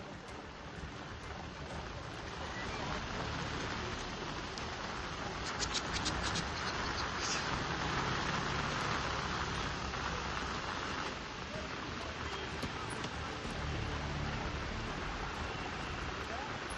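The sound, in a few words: heavy rain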